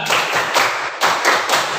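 A group in an ice-breaking session claps together in sharp, unison bursts at a quick counted pace. The claps are close and loud, about six in under two seconds.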